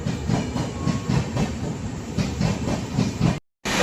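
A train running at high speed on an overnight journey from Odisha toward Uttar Pradesh, heard from inside as a steady loud rumble with rhythmic clatter and hiss that cuts out briefly near the end.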